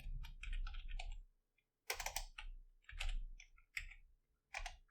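Quiet clicking of computer keyboard keys in short bursts separated by brief silences, close and isolated, with no talking.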